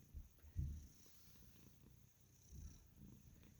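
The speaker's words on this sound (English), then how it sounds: "his little purrs are so cute" A pet cat purring softly and close, a low rumbling texture with a couple of stronger swells, faint against quiet room background.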